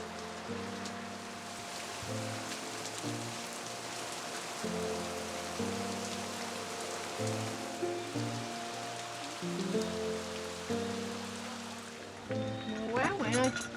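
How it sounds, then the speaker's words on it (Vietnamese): Heavy rain pours down outdoors at a cooking spot, a dense, steady hiss of drops on surfaces beneath a stepped, tonal musical backdrop, continuing throughout with a brief rise in clatter near the end. "Mưa to ướt hết rồi"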